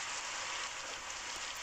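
Steady rain falls in a cartoon scene, a continuous broadband hiss of drops on a surface with no voices.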